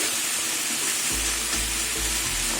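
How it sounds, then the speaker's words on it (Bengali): Boiled vegetables for chorchori frying uncovered in an open pan, a loud, continuous close-up sizzle with a few low bumps of the pan underneath. "তো সেদ্ধ হয়ে গেছে আর ঢাকবো না এবার ভাজবো"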